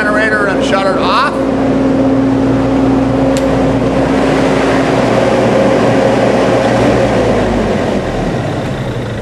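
A generator runs steadily to power condo air conditioners, giving a loud, continuous engine drone with a low hum that holds unchanged from start to finish.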